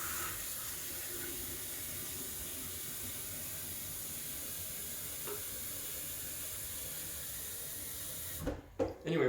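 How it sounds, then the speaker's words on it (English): Tap water pours steadily into the removable tank of a Breville Oracle BES980 espresso machine, a continuous hissing rush that runs for several seconds before stopping abruptly with a few brief splashes and clunks at the end. "Now that I've emptied the water tank, I should fill it before the machine gets angry at me."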